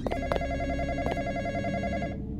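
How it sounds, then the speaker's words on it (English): A phone rings in a graveyard horror video game, a loud electronic trill repeating in short bursts close by, then cutting off near the end, with no voices. "Oh, the phone's going off."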